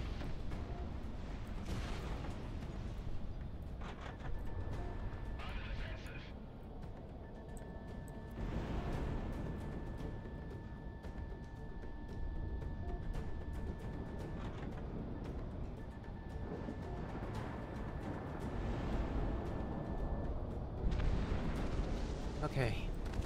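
Missiles launching and exploding in the jet combat game Project Wingman, a steady roar of booms and rumbling blasts layered over continuous engine drone, with someone talking over much of it.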